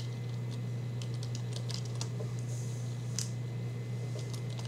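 Keys clatter on a computer keyboard in short irregular bursts of taps, faint and close over a steady low electrical hum, with no speech.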